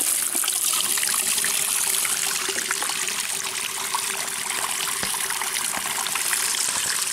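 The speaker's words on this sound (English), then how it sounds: "So yeah, I'm gonna refill my water bottle for the trip" Spring water runs steadily into a water bottle being refilled on a trip, a continuous close trickling and gushing flow with no talk over it.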